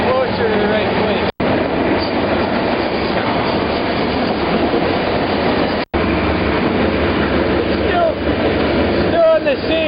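Inside a moving passenger train, a continuous rumble and rattle of the cars runs with faint clickety-clack and brief squeals from the wheels, and two short dropouts interrupt it.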